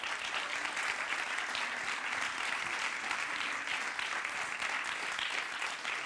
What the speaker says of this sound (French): je voudrais qu'on applaudisse Alice.